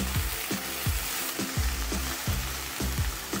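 Onions frying over medium-low heat in shrimp-flavoured oil in a pan on an induction cooker: a continuous loud sizzle with regular soft thumps about every half second.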